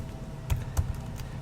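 Keys tapped on a computer keyboard while entering a username and password for an SSH login to an Ubuntu device: a few soft, separate clicks over a steady low hum.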